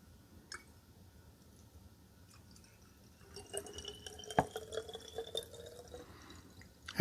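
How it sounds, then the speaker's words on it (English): Homemade black walnut ink is poured gently into a small glass bottle: faint drips at first, then a thin trickling, splashing stream for several seconds, close and quiet, ending with a louder clink. "let me gently pour this in here without getting it all over myself"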